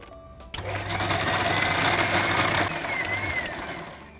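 An electric mixer grinder grinds roasted coriander, cloves and cardamom, starting with a sudden loud whirring buzz that runs steadily for about two seconds, stops, then gives one short final pulse.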